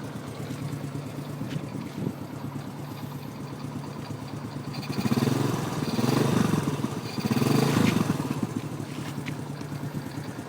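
A restored Honda motorcycle engine idles steadily, close by, with a low, even rumble that swells louder twice in the second half.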